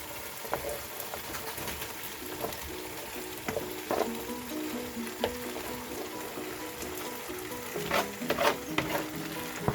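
Beef stir fry with vegetables and peppers sizzles in a hot pan, a steady crackling hiss with scattered pops and occasional clinks of stirring, close and continuous with no talking.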